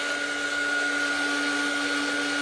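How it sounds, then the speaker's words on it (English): An art heat tool blowing steadily over a journal page as it dries, a constant whirring hum with a high whine that stays level from start to finish and no speech over it. "Normally I wouldn't dry it with the heat tool."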